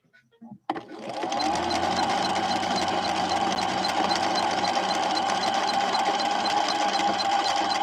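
A Husqvarna Viking 6460 sewing machine starts after a few small clicks and then runs steadily in slow gear, giving a close, even mechanical whirr with a fast, regular chatter that holds constant.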